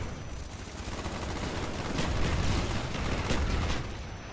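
Mortar fire in Black Ops 1 comes as a continuous barrage of loud, dense blasts and rumbling explosions, swelling toward the middle and holding heavy to the end with no voices over it.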